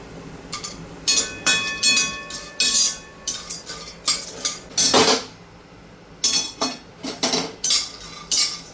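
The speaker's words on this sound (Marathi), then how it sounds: "दालचिनी पण भाजून झालेली, काढून घेते." Roasted cinnamon sticks are scooped out of a pan for homemade Konkani masala, making loud, close metallic scrapes and clanks of utensil against pan in irregular bursts with short pauses.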